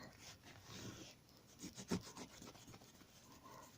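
Permanent marker is wiped off new plastic greenhouse roof sheeting, giving close, quiet rubbing and scrubbing strokes in uneven bursts, with one sharper squeak near the middle.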